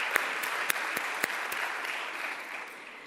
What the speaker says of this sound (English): they really deserve a special applause.